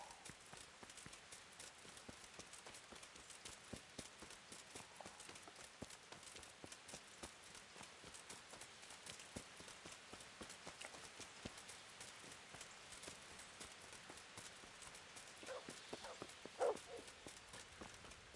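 Horse hooves clip-clop in a steady, quick rhythm in Kingdom Come: Deliverance, a continuous faint patter of footfalls running throughout with no other prominent sounds.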